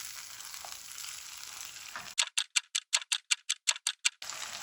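Ingredients frying over medium heat in a pan, a steady close sizzle for about two seconds, then cut by a rapid run of about ten evenly spaced clicking taps before the sizzle returns.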